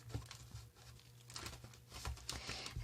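Tarot cards being shuffled, a quiet riffling and soft papery patter of cards rubbing together in a few short bursts, close and faint with no talking.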